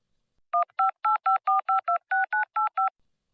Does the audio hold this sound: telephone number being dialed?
yes